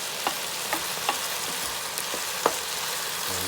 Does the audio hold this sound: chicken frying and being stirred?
yes